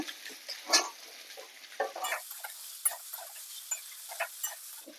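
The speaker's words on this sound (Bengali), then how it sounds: "আলু এইভাবে সরু সরু করে কেটে নিয়েছি দিয়ে ভালো করে কষিয়ে নেব" Thinly cut potatoes frying in a pan for a mixed-vegetable river fish dish, a quiet sizzle with irregular soft stirring clacks and scrapes, no speech.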